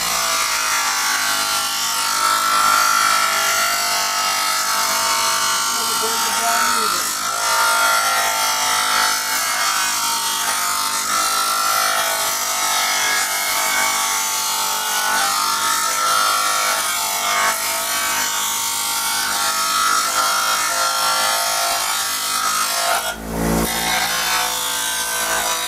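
Grinder smoothing down a section of a Generac GP15000E generator, a loud, steady high-pitched abrasive whine held for the whole stretch, with one brief dip and knock near the end.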